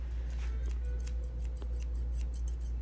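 Slightly dull scissors snip through matted Yorkie fur during grooming, giving a quick run of soft close cuts over a low steady hum, with no voices.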